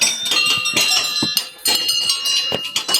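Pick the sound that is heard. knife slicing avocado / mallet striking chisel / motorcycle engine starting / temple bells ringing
temple bells ringing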